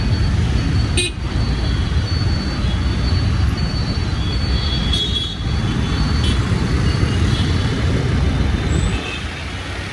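Continuous rumbling traffic with engines idling nearby on a busy road between Hoodi and KR Puram; a couple of short horn toots cut through the steady road noise.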